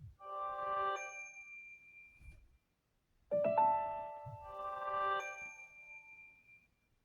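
A phone notification tone: a bright, bell-like chiming melody with clear ringing tones, played alone and close, heard twice with a short gap between.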